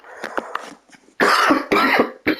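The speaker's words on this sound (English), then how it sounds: "Oh, I apologise for the coughing today." A person coughs repeatedly with an itchy throat, a few light hacks followed by two harsh, loud coughing bursts close to the microphone.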